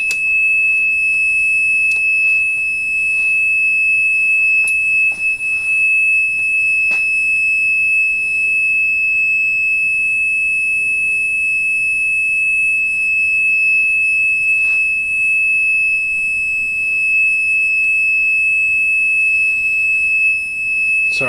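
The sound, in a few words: alarm going off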